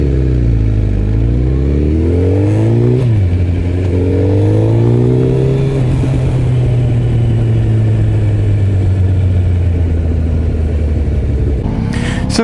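A Suzuki Hayabusa motorcycle steers around an imagined obstacle on a training day, its engine loud and close, the pitch rising and falling with throttle changes and then holding a steady drone.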